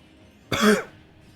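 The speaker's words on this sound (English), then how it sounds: "still haven't gotten rid of that cough yet." A single short, sharp cough from a person with asthma breaks a near-silent background, close and clear.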